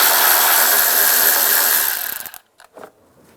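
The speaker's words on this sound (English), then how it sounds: "we'll take this bolt out on both sides" A bolt being removed with a 10mm socket on the front end of a 1999-2005 Volkswagen Jetta during A/C condenser replacement, a loud close whirring of a power tool that winds down, followed by a couple of short mechanical clicks.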